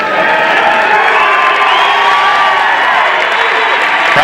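A packed audience at the 1992 Arnold Classic bodybuilding contest cheers and whoops in a loud, continuous roar that holds steady throughout, with no clear individual voices.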